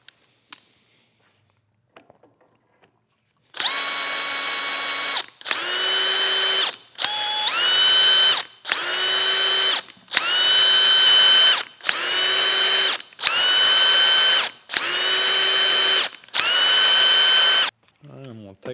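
A power drill lapping a steam locomotive try-cock valve seat with oiled grit, whirring in about nine loud bursts separated by short pauses, close up.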